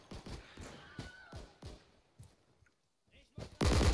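Gunshots ring out in a WWII first-person shooter set during Operation Market Garden, several sharp reports spaced apart, followed by a loud burst of noise at the end; no clear talk is heard.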